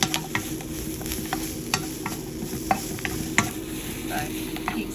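Vegetables being stirred in a stir-fry pan give a steady sizzle with repeated scraping and clinking strokes of the utensil. The sound is fairly close and there is no talk.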